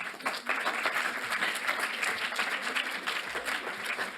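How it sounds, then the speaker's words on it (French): An audience at a general assembly applauds, a dense, steady roar of many clapping hands filling the room without pause. "je voudrais qu'on l'applaudisse"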